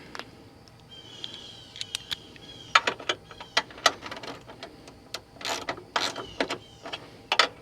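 Ratchet wrench tightening 10 mm bolts on the hood struts of a Ford Bronco Sport, heard as close, sharp clicking bursts in irregular runs of rapid ratchet ticks.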